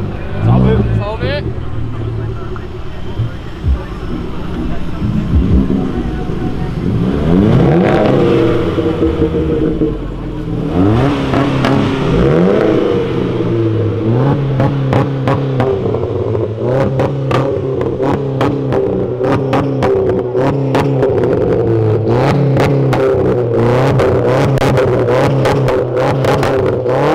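A Honda Civic Si revs hard and bounces off the rev limiter again and again, a loud stuttering engine note with rapid cut-outs, mixed with bursts of other engines and crowd noise at a car meet.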